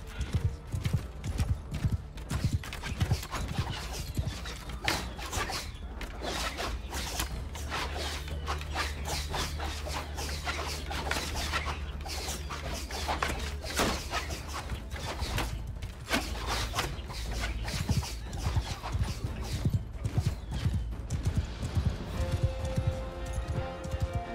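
Horses gallop in the Mount & Blade II: Bannerlord video game, with steady, close clip-clop hoofbeats from a line of mounted horse archers running throughout and an occasional whinny near the end.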